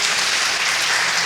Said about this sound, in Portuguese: Você pode dar um aplauso ao nome do Senhor.